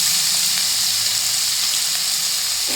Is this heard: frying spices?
yes